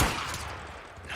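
Gunfire in Days Gone, a sharp, loud shot at the very start, then a decaying boom and rumble that fades and swells slightly near the end.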